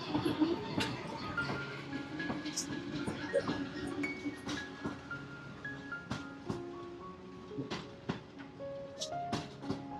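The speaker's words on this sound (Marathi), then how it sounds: "एकदम गोड दिसते ही ट्रेन." A small toy train runs through Borivali National Park with a steady rumble and scattered sharp clicks and clacks from the rails, heard close for the full stretch against outdoor ambience with faint voices.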